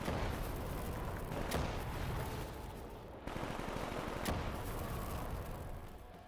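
The Mystifier weapon fires in the Call of Duty zombies map TranZit, letting off sharp, quiet cracks at intervals over a steady background hum.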